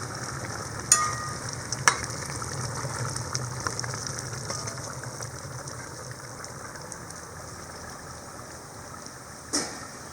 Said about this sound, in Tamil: எல்லாம் சேர்த்து ஒன்று நல்லாவே மிக்ஸ் பண்ணி விட்டுறணும்.